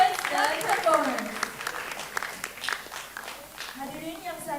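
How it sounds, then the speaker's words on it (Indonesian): Applause from the crowd at a school graduation ceremony, a steady patter of many hands that rises and thins across the span with a few louder bursts, with some voices mixed in. "Berikan tepuk tangan yang meriah untuk para graduates dan performers."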